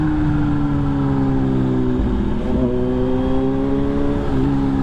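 A motorcycle fitted with an SC Project exhaust pipe gives off a loud, steady engine drone that holds close and constant throughout, its pitch dipping slightly now and then, with no talking.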